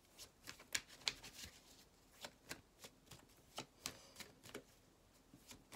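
Oracle cards are shuffled and dealt onto a table, giving quiet, crisp flicks and soft slaps in an irregular string, close and faint, with no voices.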